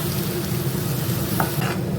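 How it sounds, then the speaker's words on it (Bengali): Mutton fat cooking down with a splash of water in a pan on a new gas stove, a steady dense sizzle and bubbling throughout with a couple of brief clinks near the end. "একটু কষিয়ে নিই।"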